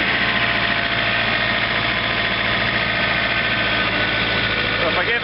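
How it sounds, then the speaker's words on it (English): A John Deere 110 TLB tractor with its snow blower engaged runs at about 1700 RPM, a loud, steady close engine drone with constant mechanical whir throughout. "Running it, about, you know, 1700 RPM there. Blower's already on."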